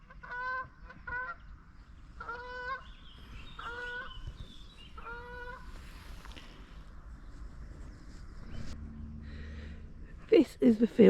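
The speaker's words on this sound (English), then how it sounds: "We've even got happy geese going through." Geese passing over water near a kayak give several honking calls in evenly spaced pairs, fairly clear at first, followed by a steady low hum and a few sharp, loud bursts at the very end.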